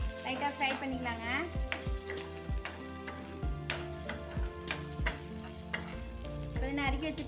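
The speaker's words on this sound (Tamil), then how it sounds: "லைட்டாக ஃப்ரை பண்ணிக்கலாங்க." Ginger and garlic with fennel and cumin seeds fry in hot oil for paneer butter masala, sizzling steadily while a spoon scrapes and stirs the pan in repeated strokes. No one speaks.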